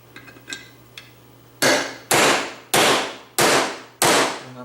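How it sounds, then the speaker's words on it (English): A hammer drives old bearings out of a part on a workbench corner: five loud, sharp metallic strikes about half a second apart, each ringing briefly, after a few faint taps and clinks at the start. "And I think I need a bigger hammer."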